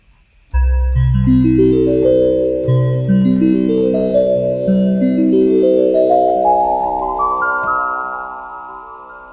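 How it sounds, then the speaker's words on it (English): A synthesizer plays a rising melody on the white keys, sustained overlapping notes with a rich low tone, loud and steady, each note ringing into the next. "I'm going to play a melody now using just the white keys of the keyboard."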